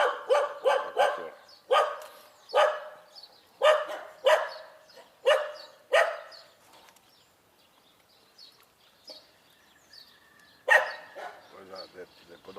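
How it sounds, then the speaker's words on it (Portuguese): A dog barks repeatedly outdoors, several quick barks in bursts, then a pause and a final bark, with faint birds in the background. "Olha o cachorro."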